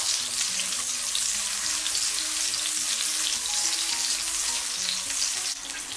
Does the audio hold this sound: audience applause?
no